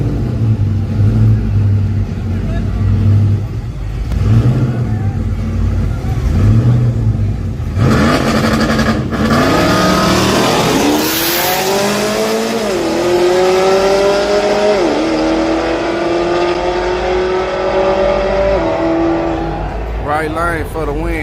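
Drag racing cars launch and roar down a Thursday-night drag strip in Dallas, Texas, engines revving and rising in pitch over a long run, with crowd talk and chatter throughout.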